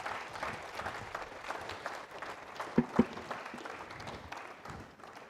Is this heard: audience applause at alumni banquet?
yes